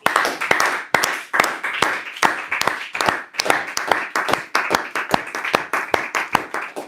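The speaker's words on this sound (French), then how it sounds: "Applaudissons pour Jésus-Christ." A church congregation at a French-language Sunday service claps in rhythm, a steady stream of sharp, close hand claps repeating roughly every third of a second, loud and continuous without talk.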